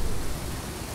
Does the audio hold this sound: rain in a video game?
yes